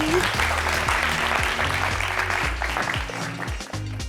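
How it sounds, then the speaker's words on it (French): Studio audience applause greets a fashion-show guest, steady clapping beneath a sustained low musical tone and a voice speaking over it. "viens ma belle, on applaudit"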